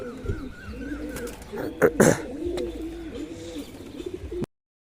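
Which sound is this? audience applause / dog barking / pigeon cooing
pigeon cooing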